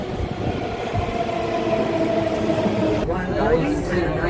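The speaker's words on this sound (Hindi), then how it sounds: "आ गई भाई अपनी मेट्रो" Steady rumble of a metro train rolling in and slowing along the platform, loud and close, with voices chatting faintly beneath.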